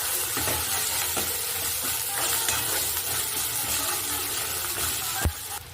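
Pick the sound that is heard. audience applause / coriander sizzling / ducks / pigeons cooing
coriander sizzling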